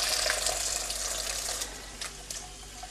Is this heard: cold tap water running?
yes